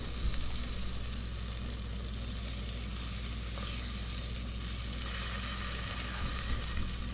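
Chicken tenders fry inside an air fryer, giving a faint, continuous sizzle and crackle over a steady fan hum, close by with no voices.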